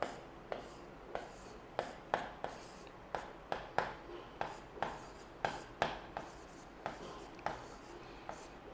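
Pen strokes of handwritten notes during a geography lesson, faint and close, coming in a steady series of short scratching bursts roughly every half second, with no one talking.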